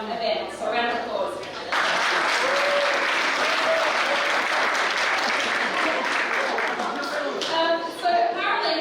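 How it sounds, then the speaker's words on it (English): A loud round of applause from an audience at a soccer club awards night breaks out after brief talk, sustained dense clapping for several seconds, with voices heard at the start and end. "So a round of applause."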